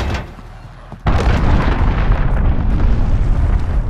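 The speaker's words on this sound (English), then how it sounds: "Enemy cruise missile incoming." A cruise missile blast in Call of Duty: Modern Warfare (2019): a quiet stretch broken by one sudden loud explosion, followed by a long, heavy, roaring rumble.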